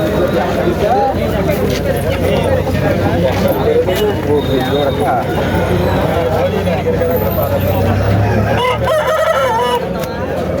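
At a Saturday country chicken market in Mamidada, a rooster crows amid a dense, loud crowd of bargaining voices and general market babble, the call rising briefly above the constant chatter.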